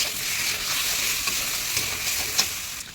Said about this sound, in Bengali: এই যে কাঁচা লঙ্কা সর্ষেটা দিয়ে দিলাম, দিয়ে একটুখানি এগুলোকে কষিয়ে নেবো